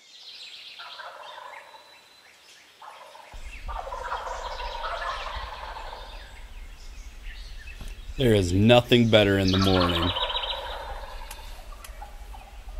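Wild turkeys gobble from the roost in the dark before dawn, a loud, close burst of rapid rattling gobbles in the latter half, with someone talking quietly throughout.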